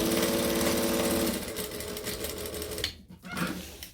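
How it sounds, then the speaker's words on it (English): Sewing machine stitching waterproof canvas for an overnight bag, a fast, loud mechanical whir with steady needle rhythm that changes pace partway through and then breaks off into brief handling noises. "we're just going to sew from here across"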